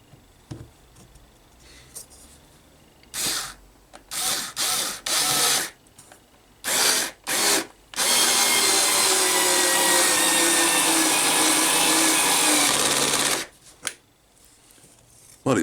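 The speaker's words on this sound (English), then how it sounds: "Well, it made light work of screwing that one in." Aldi Ferrex 3.6V cordless pivot-handle screwdriver driving a screw into wood: after a few short bursts of handling noise, a steady, loud motor whir runs for about five seconds, then stops.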